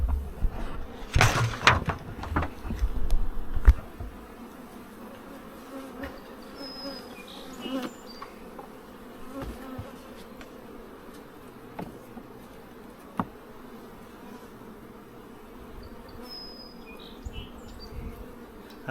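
Honeybees buzz around hives in spring, a continuous low hum of many insects with individual bees passing close, plus a few knocks and clatters early on.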